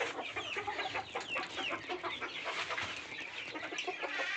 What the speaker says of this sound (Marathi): ही आहे मित्रांनो आपल्या आधीची गावरान पक्षी